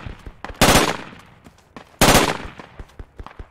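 Gunfire in the tactical military shooter game Project Reality: two loud bursts of automatic fire about a second and a half apart, with scattered single shots and faint clatter between them.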